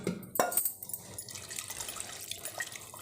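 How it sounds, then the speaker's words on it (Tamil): Leftover water poured from a vessel into mashed toor dal and drumstick leaves in a home kitchen, a faint close splash and trickle with a small clink at the start. "அந்த மீதி தண்ணி இருக்குல்ல, தண்ணி இதில் ஊற்றி மிக்ஸ் பண்ணிக்கோங்க."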